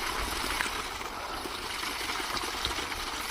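Water gushes steadily from the 2-inch delivery pipe of a 7.5 hp pump drawing from 400 feet, making a loud, even broadband splashing hiss with no pauses throughout.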